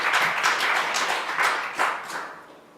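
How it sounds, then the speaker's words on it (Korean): A church congregation at a revival service applauding together, a fairly loud, continuous patter of many hands with slight rhythmic swells, gradually tapering off at the end. "박수로 하나님께 감사해요."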